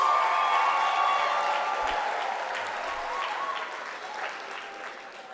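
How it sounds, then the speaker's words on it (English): Graduation ceremony audience applauding in a large hall, a dense, steady wash of many hands clapping that starts loud and slowly eases over about five seconds, with no talk over it. "Graduates, can you please stand up and give your parents, uncles, relatives a big round of applause for contributing towards this moment."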